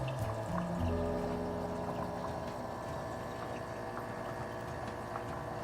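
Water pumped back into a 125-gallon reef aquarium makes a steady rushing, pouring wash that holds close and even for the whole stretch, with a faint low hum beneath.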